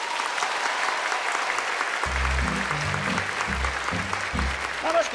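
Steady applause from a TV talk show studio audience fills the whole stretch, loud and continuous, with a low musical tone entering partway through.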